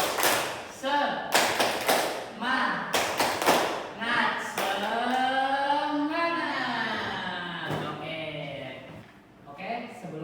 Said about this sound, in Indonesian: Sebelum mulai, mari kita tepuk semangat dulu.